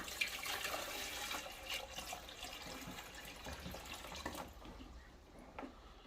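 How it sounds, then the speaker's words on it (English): Water pours and splashes in a steady trickle, fairly close and quiet, tapering off near the end. "Now put some water in, more clean water."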